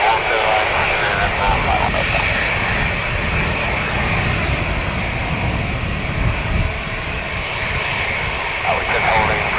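A jet airliner's engines roar loudly and continuously on the runway at Dublin Airport during takeoff, a dense broadband rumble, with radio talk partly heard beneath it.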